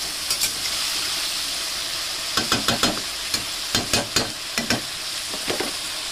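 A paste of ginger, garlic, chili and cumin sizzling in hot oil, with a steady close hiss broken by clusters of sharp spoon clinks and stirring scrapes against the pan.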